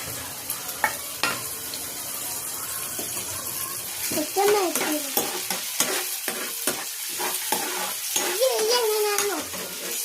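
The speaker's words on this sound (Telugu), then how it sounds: "నేను కలుపుతాను" Food frying in a pan at home, with a utensil stirring and scraping through it in uneven strokes while a soft sizzle continues underneath; voices, including a child's, talk over the stirring.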